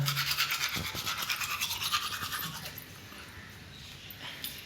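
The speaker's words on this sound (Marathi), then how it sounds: "मस्त पैकी ब्रश करतोय" Rapid rhythmic scrubbing of a toothbrush, close and steady for a few seconds, then fading to quieter brushing with faint breathing.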